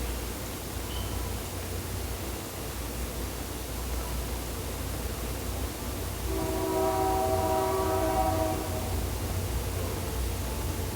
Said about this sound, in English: That train sound like it's getting closer and closer and closer and closer.